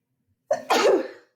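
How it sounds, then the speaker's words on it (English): A single close, loud sneeze: a short sharp intake followed by a forceful burst that trails off, with silence before and after. "I'm about to sneeze."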